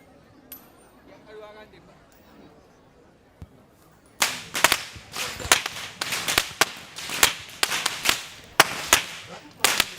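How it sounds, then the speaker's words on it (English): Whip crackers leading the Kandy Esala Perahera procession in Sri Lanka snap their whips in a rapid series of loud, sharp cracks outdoors, with faint crowd chatter before the cracking begins. "Walking up front with the sound of thundering whips piercing through the skies are the whip crackers announcing that the procession has commenced"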